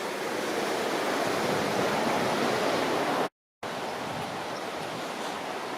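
A small waterfall and stream on a valley footpath between Nantmor and Beddgelert give a steady, close, full rush of falling water with no talk. A brief silent break falls partway through.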